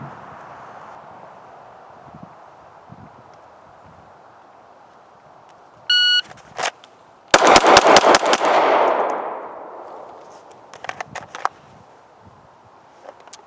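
Six rapid gunshots ring out close and loud at a shooting range, tightly bunched in a quick string and followed by a fading echo, with quieter handling noises before and after.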